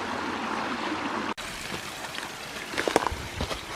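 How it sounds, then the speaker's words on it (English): A small waterfall on a creek in Bankhead National Forest, Alabama, gives a steady, close rushing hiss of falling water, continuous throughout with a brief dip partway, plus a few knocks and rustles near the end. "I almost didn't pay attention to the waterfall over here on the right."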